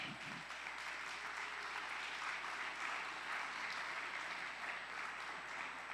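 A church congregation claps in sustained, steady applause at a Sunday service, a dense, even wash of many hands that stays at one level throughout with no speech over it.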